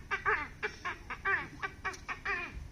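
A man imitates duck and goose calls with his voice, a rapid series of nasal honking quacks close by, about ten bursts in quick uneven rhythm.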